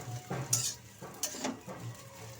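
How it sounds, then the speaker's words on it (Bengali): A spatula stirs singara filling of mashed potato and fried peanuts in a pan over a low to medium gas flame, giving a few soft scraping strokes and faint clinks, fairly quiet and close with no talk. "শুধু খুন্তি দিয়ে নাড়াচাড়া করতে হবে"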